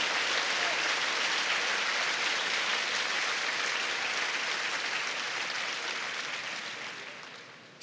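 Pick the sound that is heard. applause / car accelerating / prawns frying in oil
applause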